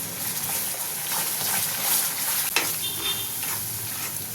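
Masala paste frying in hot oil for a drumstick (mulakaya) curry gives a steady, close sizzle, with scraping stir strokes and a few sharper crackles breaking through the continuous hiss.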